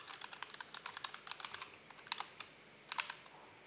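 Close, quiet typing on a computer keyboard: a quick run of light key clicks with brief pauses and a couple of firmer taps, entering a search, with no voices.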